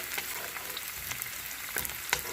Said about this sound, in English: Throw the garlic in. And stir fry the onion, ginger,